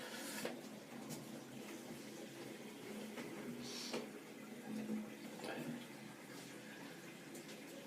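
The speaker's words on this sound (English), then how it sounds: "Now I'm just going to drain the sink because I've filled it up a little bit" A filled bathroom sink draining, with a low continuous watery gurgle and swirl running steadily underneath, broken by a few soft clinks and taps.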